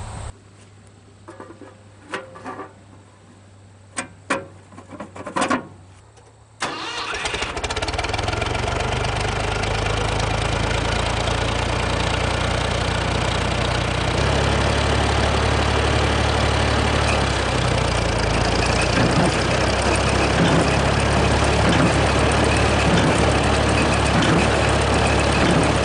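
Hay baler tractor engine starting, the clip opening on a few sharp clanks before the engine catches at about six seconds and settles into a loud, steady idle that runs uninterrupted to the end.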